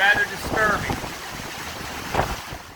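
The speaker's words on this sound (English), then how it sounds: "Just incredible force of wind, man." Strong hurricane wind from Hurricane Ida in Houma, Louisiana roars steadily and loudly across the microphone, with voices talking intermittently over the gusts.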